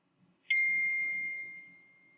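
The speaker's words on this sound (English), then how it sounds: "That really loud ding was my phone. So I just got a text message." A phone text message notification: a single sharp, loud ding that rings out and slowly fades over about two seconds against near silence.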